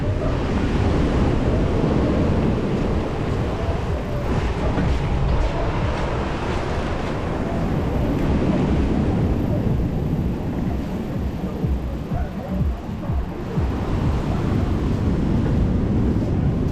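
Slightly stormy sea at Sochi, waves rolling and breaking continuously on the shore with steady wind noise over the microphone, loud and close, no voices.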